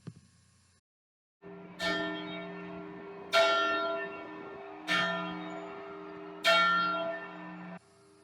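A single large church bell in the belfry of King's Chapel tolls four times at steady intervals, each strike ringing bright and metallic and then decaying into a long humming resonance that overlaps the next.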